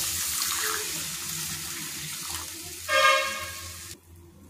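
Water is poured into a pan of wheat-flour Maggi with salt, masala and coriander, a short splashing pour of about a second over quiet kitchen background.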